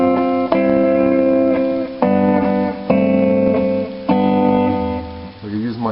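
Acoustic guitar chords played with a thumb or first-finger bass note added, struck about five times in a steady bouncing rhythm, close and clear with ringing sustain and no talking.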